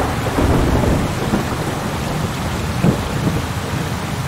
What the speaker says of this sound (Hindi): एक दिन भारी वर्षा के बादल जंगल में आते हैं और बहुत सारी बरसात जंगल में होती है